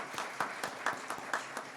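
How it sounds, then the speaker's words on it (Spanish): A studio audience bursts into applause to welcome a guest on a Sunday morning show, with repeated sharp clapping swells over about two seconds. "Damos un fuerte aplauso a John"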